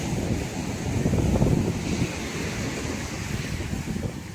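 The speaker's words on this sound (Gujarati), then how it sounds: "જો પવન એટલો છે અને મોજો એટલો થઈ ગયો છે તો તમે જો ગાઈસ ફૂલ પવન ને ફૂલ મોજો" Strong storm wind buffets the microphone over the roar of crashing sea waves, a loud continuous rumble that swells and eases, with no talk.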